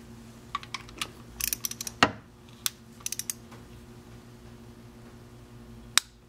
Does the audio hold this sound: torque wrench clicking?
yes